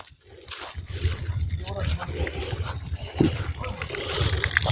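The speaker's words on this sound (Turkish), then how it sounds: "Bu da orijinal suyu buz gibi suyu akıyor." Ice-cold spring water flows steadily in high, snowy mountains, a continuous close rushing and gushing with no pauses.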